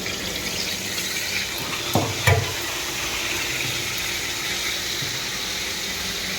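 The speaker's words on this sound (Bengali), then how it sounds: "দেখুন ভাজছি" Food sizzles steadily in a wok on a home stove, with fish frying alongside after sugared salt water is splashed in, a continuous broadband hiss with a couple of brief clatters near the middle.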